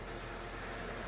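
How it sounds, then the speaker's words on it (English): A can of spray adhesive hisses out in a steady, dense spray close up, running out as it empties, with no voices over it. "Oh, also my spray adhesive just ran out."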